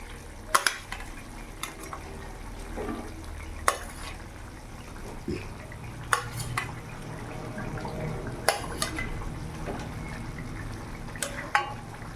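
Rohu fish curry with fried fish pieces simmering in a pan over a full gas flame gives a steady bubbling sizzle throughout, broken by occasional sharp clinks of a utensil against the pan.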